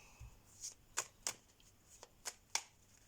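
Quiet, crisp snaps and flicks of tarot cards, about six distinct slaps at irregular intervals, close by with no talking.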